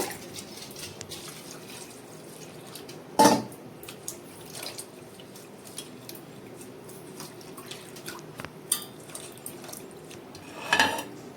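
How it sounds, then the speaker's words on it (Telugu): Coriander and fenugreek leaves are washed in a bowl of water, with soft splashing, trickles and drips throughout and two louder sloshing bursts where the bowl is handled, close by and without speech. "ఇవి రెండు ఒక దాంట్లో ఒక గిన్నెలో వేసేసి శుభ్రంగా కడిగేద్దాం"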